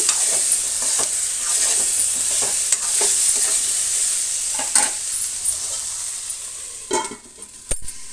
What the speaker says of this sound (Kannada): ಮಧ್ಯದಲ್ಲಿ ಒಂದು ಸಲ ಆ ರೀತಿ ಕಲಸಿ ಮುಚ್ಚಿಡೋಣ.